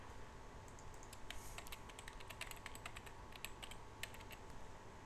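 Quiet computer keyboard typing as a username and password are entered: a steady run of soft, close key clicks with brief pauses.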